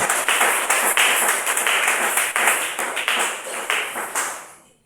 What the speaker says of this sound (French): Est-ce qu'on peut applaudir pour le Lord?